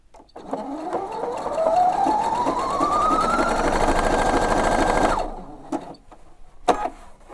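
A Husqvarna Viking Opal sewing machine stitches with a loud, rapid mechanical whir that rises in pitch as it speeds up, runs steadily for several seconds, then stops abruptly, followed by a couple of small clicks.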